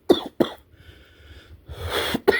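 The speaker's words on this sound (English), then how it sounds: "I'm still coughing, bro." A person coughs in a few sharp close bursts, first two quick coughs, a pause with faint background noise, then a longer rough exhale and another cough at the end.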